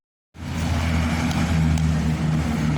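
BMW 1200 motorcycle engine idling nearby, starting abruptly after a moment of silence and holding a steady, loud, low rumble throughout.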